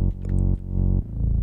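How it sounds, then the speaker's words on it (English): A low, buzzy synthesizer drone pulses in short swells, ducking rhythmically about every half second. "And then I have a drone here, and just sounds like this."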